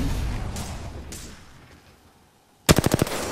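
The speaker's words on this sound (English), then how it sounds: "I'm under fire." Gunfire in the battle royale game Apex Legends: after a muffled, rumbling lull, a loud burst of about six rapid automatic shots rings out close by near the end.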